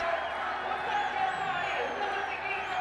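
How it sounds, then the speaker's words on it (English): A stadium crowd of Nepali fans at a women's football match against India cheering in a sustained roar with whoops and whistles, heard at a distance and steady throughout. "The Nepali fans, they're cheering."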